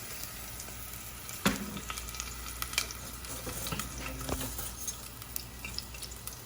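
Ginger is sautéed in a pan at home while making orange chicken lo mein, giving a steady, low sizzle with occasional scrapes and clicks of stirring, fairly quiet and with no talking.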